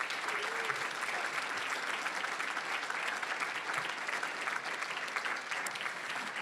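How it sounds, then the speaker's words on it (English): Steady audience applause fills an awards ceremony for the Nations Cup, a dense, even wash of clapping from a large crowd that holds at one level throughout with no voices rising above it. "So, one more big round of applause for all of these ladies and gentlemen."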